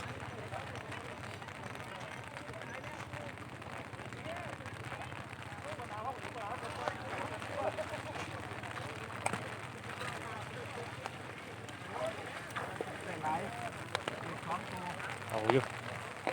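Heavy summer-storm rain pours steadily onto surfaces outdoors during a fishing outing, a constant dense hiss with occasional louder spatters and faint background voices.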